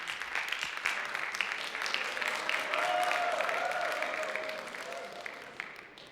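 Applause from an audience at a talk on empathy, a sustained, moderately distant round of clapping that swells and then fades over several seconds.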